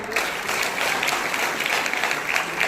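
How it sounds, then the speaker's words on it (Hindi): An audience gives hearty applause for the chairman at an award ceremony, a brief, even wash of clapping throughout. "एक बार जोरदार तालियां हमारे चेयरमैन साहब के लिए"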